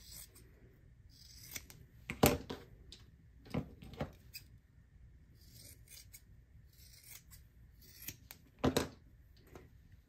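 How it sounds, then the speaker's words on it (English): Scissors trim a fabric seam allowance while sewing a garment, a handful of short crisp snips at irregular intervals with quiet gaps between, close and moderately loud. "now I'm gonna trim down this seam allowance."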